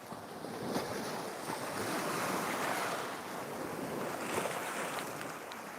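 Rough sea waves wash steadily along the beach at Hua Hin, Thailand, a continuous roar of surf mixed with wind buffeting the microphone, with no voices.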